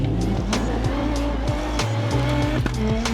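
A Dacia Sandrider 360bhp all-wheel-drive rally raid car with a six-speed sequential gearbox drives hard and accelerates, its engine note climbing and dropping steadily with gear changes, loud and close throughout.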